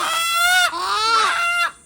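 Village roosters crowing in a few drawn-out, wavering harmonic calls, loud and close, one after another with short gaps.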